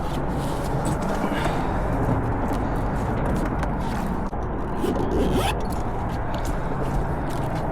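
A zipper drawn along a bag holding a freshly caught sheepshead, recorded outdoors on a bridge while fishing, giving a continuous close rasping zip over steady wind and background noise for several seconds.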